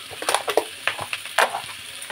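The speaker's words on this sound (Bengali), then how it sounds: "এবার দিয়ে দেবো সর্ষে বাটা।" Mustard paste hits a hot frying pan in a home kitchen, giving a close, crackling sizzle with several sharp bursts of spatter over about two seconds.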